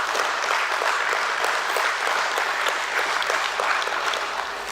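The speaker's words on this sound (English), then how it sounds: "it needs a big, huge applaud" Loud, sustained applause from a crowd at the stock market listing ceremony of Network People Services Technologies Limited at BSE, dense steady clapping throughout with no voices over it.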